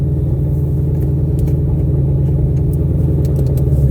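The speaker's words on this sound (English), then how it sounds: "This car is fairly loud, especially now because I have a rear seat delete." A loud 2024 Ford Mustang with a rear seat delete rumbles in a deep, steady idle, heard close from inside the car with no voices.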